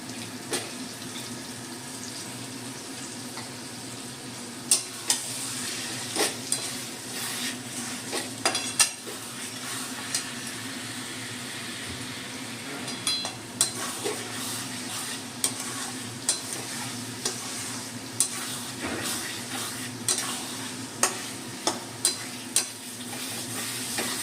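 Fried potatoes being stir-fried with spices in a pan for a potato and egg curry, a steady low sizzle under repeated spatula scrapes and sharp taps against the pan.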